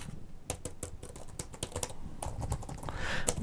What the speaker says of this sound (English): There is a difference in sound between when you're typing.